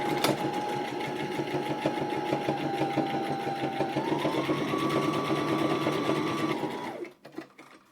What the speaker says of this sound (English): I am hemming it with 1/8 inch seam allowance.